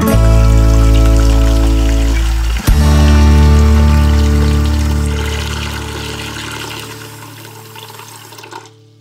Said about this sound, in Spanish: vamos a coger una olla y la vamos a llenar hasta la mitad de agua